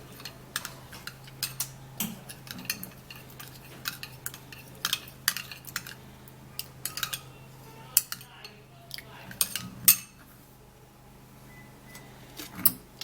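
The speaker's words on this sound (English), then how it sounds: "I'm going to be putting 2 tablespoons of the yogurt and then stir it together with the okra seeds" A spoon clinks and scrapes repeatedly against a bowl while yogurt is stirred together with okra seeds, irregular sharp taps spread through the whole stretch, close by.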